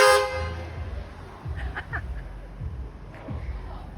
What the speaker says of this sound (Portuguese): Vamos tentar buzinar, velho.